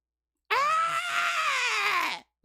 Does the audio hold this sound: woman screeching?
yes